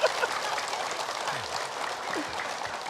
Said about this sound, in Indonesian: Terima kasih tepuk tangan ibu